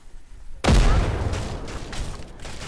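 Stink bombs and dynamite detonating in Fortnite, a sudden loud boom that breaks a near-silent start and rumbles on with crackling, sputtering bursts, with a voice faintly present.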